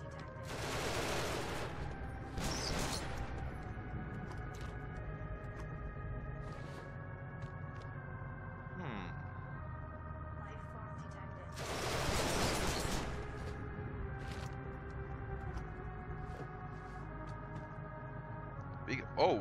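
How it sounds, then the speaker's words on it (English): A laser rifle fires in Genesis Alpha One in a few short, sharp bursts spaced far apart, over a faint, steady tonal background. "That's the normal laser rifle."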